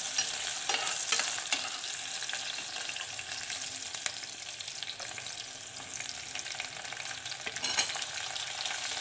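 Curry leaves sautéing in a pan, a close, even frying crackle with light stirring scrapes and a brief louder clack near the end.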